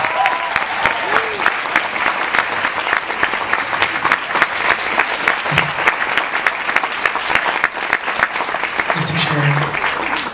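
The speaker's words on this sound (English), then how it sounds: "give our president a round of applause" An audience at a 2010 ORU President's Forum gives the president sustained, loud applause that fills the room evenly for several seconds.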